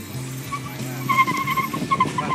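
A car passes by on a rural road on the way to Huai Nam Dang, with a short swelling engine and tyre hiss rising over a couple of seconds, fairly close.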